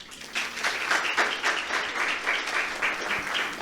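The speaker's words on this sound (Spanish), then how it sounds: "¿Cuántos aplauden al que vive?" Congregation at a church service applauding in a steady, dense wash of clapping that fills the whole stretch at moderate loudness, with no speech over it.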